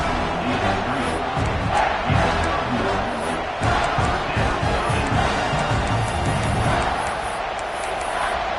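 Crowd noise from a college football video game, Iowa against Clemson, fills a red-zone third-down play with a steady roar of cheering and yelling that holds loud throughout.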